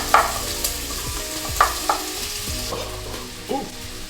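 Onion and potato fry in a hot pan, a continuous close sizzle broken by several scraping stirs and clinks of a utensil against the pan.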